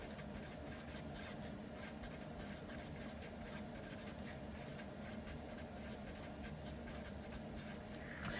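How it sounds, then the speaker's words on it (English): A pen scratching quickly across paper while notes are written by hand, close and quiet, in a steady run of short scratchy strokes with a slightly louder tap near the end, no talk. "I'm gonna write that down here."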